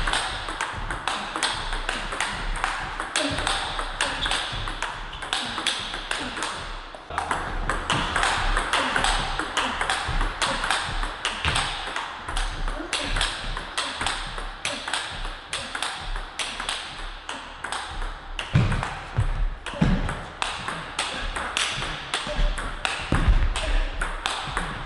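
Table tennis attacking shots with a bat carrying Butterfly Rozena rubber give sharp, close pings in a steady rally rhythm. Each ball-on-bat contact is crisp and fairly loud, and faint background room noise runs throughout.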